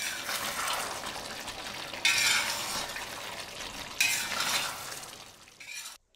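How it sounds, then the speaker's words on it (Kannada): Chicken fry sizzles in a pan and is stirred with a utensil, the hiss swelling in several scraping bursts before cutting off near the end, with no talking. "ಈಗ ಒಂದ್ಸತಿ ನೀಟಾಗಿ ಮಿಕ್ಸ್ ಮಾಡಿಕೊಟ್ಬಿಡಿ."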